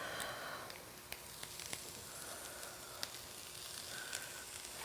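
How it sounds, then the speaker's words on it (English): Quiet, steady sizzling of udon noodles frying in a hot wok, with occasional small pops and crackles and no voices. "So we can let it sit on the wok here just so it fries it up here."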